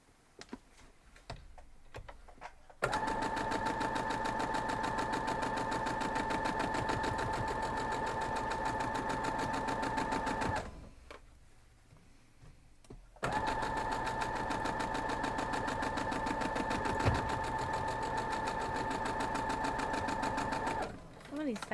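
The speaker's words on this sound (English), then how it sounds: "So let's head on over and we'll sew those up." Sewing machine stitching a quilt block, a long steady loud run of stitching, a pause, then another equally long run; faint talk at the start, no other sounds competing.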